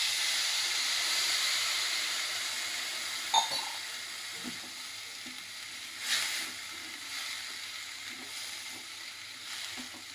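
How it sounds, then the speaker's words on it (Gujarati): Water poured into a pan of sprouted mung beans frying with turmeric, cumin and salt gives a soft, steady steam hiss, with a few faint clinks and stirs. No one speaks. "થોડું પાણી નાખી દઈશું"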